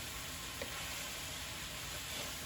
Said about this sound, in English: stir this around so that peas are everywhere